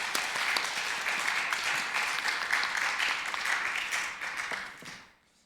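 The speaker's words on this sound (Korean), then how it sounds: "선생님들 힘내시라고 다시 한번 큰 박수 드릴까요?" A church congregation gives a big round of applause during a Sunday worship service, dense steady clapping that holds for several seconds and then fades out.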